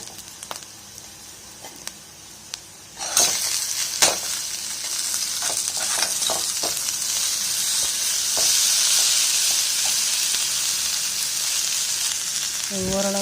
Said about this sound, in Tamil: இப்போ இது கூட ஃபில்ட்ரு பண்ணி வச்சுருக்க கொத்தவரக்காயை சேர்த்துக்கணும்